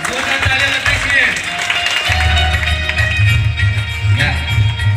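Audience applause at a Republic Day event welcoming Shahrukh, steady dense clapping throughout with music entering partway and crowd noise underneath.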